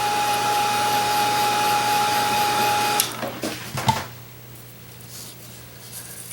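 Hair dryer drying acrylic paint on a painted Christmas stocking: a loud steady motor whir with a high whine for three seconds, then it switches off amid a few handling clicks and quiet room noise.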